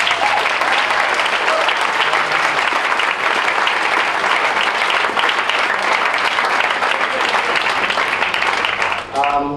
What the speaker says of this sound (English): So I think for that she deserves a round of applause and all our thanks.